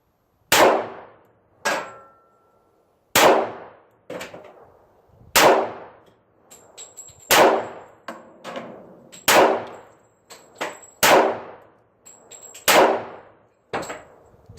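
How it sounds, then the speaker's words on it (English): Seven shots from a Colt 1911 A1 pistol ring out one at a time at a measured, uneven pace, each a sharp loud crack with a quick decaying tail, along with a few faint metallic clinks between them. "So here we go, 7 rounds downrange."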